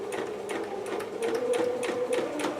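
A sewing machine runs a long basting stitch across a dress piece, a close steady whirring hum with rapid rhythmic clicking needle strokes, about three seconds with no talk.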